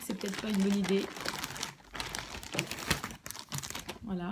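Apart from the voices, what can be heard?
plastic bag crinkling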